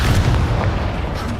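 Incendio fire spell cast in Hogwarts Legacy on PS4, a loud, close, dense whooshing roar of flame with a rumbling low boom throughout.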